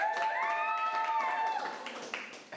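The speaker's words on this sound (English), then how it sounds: "Give her another round of applause." Audience applause fills a talk-show stage for about two seconds, a dense, steady patter of clapping with bright sustained tones ringing over it, fading slightly toward the end.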